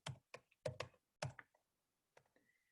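Crisp, close keystrokes tap out a user ID at a TSO login on a mainframe terminal keyboard, landing in quick clusters with short pauses in an otherwise quiet room.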